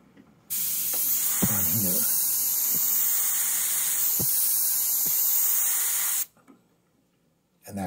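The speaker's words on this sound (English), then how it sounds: "this is a lighter blue that I'm going to kind of mist" Light blue paint mists onto a painting of waves as a loud, close, steady spray hiss lasting about six seconds before cutting off. Brief speech comes just after.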